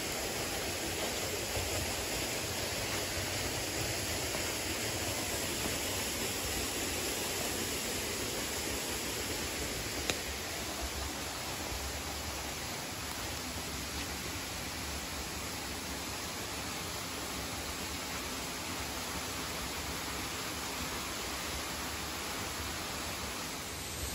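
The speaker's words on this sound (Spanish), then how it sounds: "se escucha fuerte el agua, cómo cae" A waterfall at a ranch in Oaxaca, Mexico, roars as a loud, steady broadband rush of falling water, continuous and close throughout with no voices.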